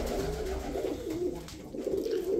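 Uzbek pigeons coo steadily inside a heated winter loft, a low soft throaty murmur rolling on continuously from several nearby birds, with no talking.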